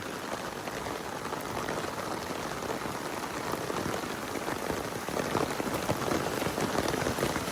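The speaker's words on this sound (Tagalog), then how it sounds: "Ulan ng ulan." Heavy rain pours steadily onto surfaces in a continuous dense hiss, loud and close, swelling slightly near the end, with no voices over it.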